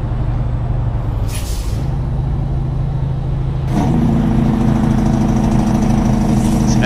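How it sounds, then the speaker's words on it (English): Engine braking on a custom Kenworth W900 heavy-haul truck in American Truck Simulator, a loud steady low rumble that deepens and grows stronger partway through and keeps droning on. "Dang it, that J-brake sounds good."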